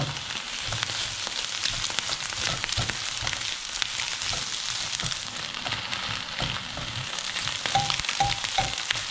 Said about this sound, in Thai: จะผัดไปก่อนแล้วค่อยเอาข้าวใส่